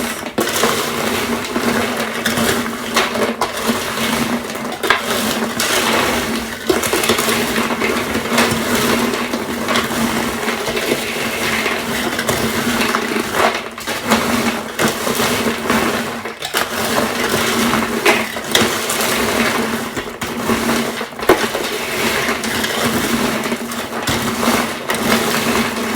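An electric mixer churns popcorn with strawberry pudding mix, a continuous whirring motor drone with crunchy rattling, loud and unbroken throughout.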